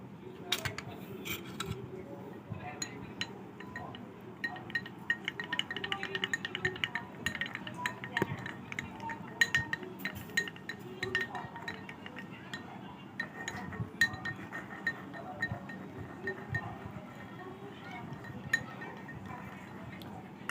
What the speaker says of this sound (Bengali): তার জন্য লাগছে দু চামচ অ্যারারুটের গুঁড়ো আর সাদা তেল